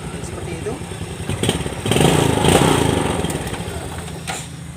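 A 2011 Yamaha Jupiter Robot motorcycle that is hard to start runs with a close, rattling idle. The engine swells louder near the middle before easing back, with brief clicks and knocks throughout.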